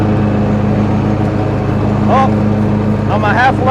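A 2020 Toro Titan 60-inch MyRide zero-turn mower runs fast with a steady, loud engine drone throughout, while voices talk over it.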